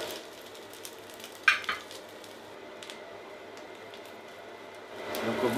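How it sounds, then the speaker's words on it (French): Burger patties cooking on a plancha griddle give a soft, steady sizzle, with a sharp utensil clack early on and the frying growing louder toward the end. "il faut laisser cuire au moins 3-4 minutes"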